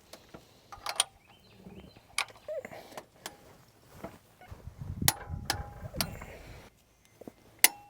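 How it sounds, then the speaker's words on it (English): A torque wrench tightens a bolt on a GM 5.3 L83 or 6.2 L86 V8 engine during cam and lifter replacement, giving close, sharp ratcheting clicks in irregular bursts with small metallic knocks between them. "we're gonna torque this bolt 48 foot-pounds and then yield it to 90 degrees"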